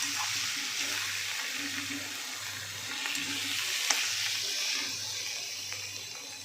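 Cabbage fry curry sizzles in a pan as it is stirred, a broad steady hiss with soft rhythmic scraping pulses, close and fairly loud, no talking.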